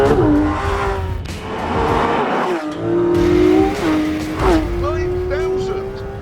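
A non-turbo 4-litre flat-six producing 500 horsepower, redlined at 9,000 RPM, revs hard through several rising and falling sweeps, loud and close, with talk over the engine.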